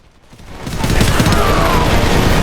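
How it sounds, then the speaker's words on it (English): Loud battle gunfire from the Homefront video game builds from quiet into a dense, continuous fusillade of overlapping shots and rumbling blasts, close and forceful throughout. "let me play a clip of battle without reducing the volume so you can see what I mean"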